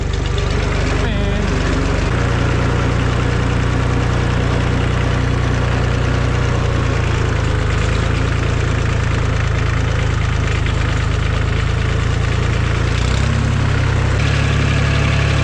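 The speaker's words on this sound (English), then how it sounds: "I like my new tractor." A tractor engine idles with a steady, loud, low rumble, close to the microphone. The drone holds throughout and shifts slightly near the end, while voices sound faintly over it.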